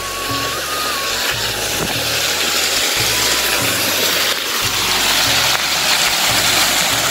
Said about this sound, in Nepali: यो झर्ना चाहिँ टक्कसँगले खिच्ने हो साथीहरू